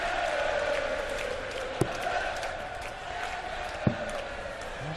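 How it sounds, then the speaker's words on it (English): Darts crowd at a championship final singing together, a sustained chanting drone filling the hall with a couple of sharp knocks, under no clear talk. "Crowd starting to sing"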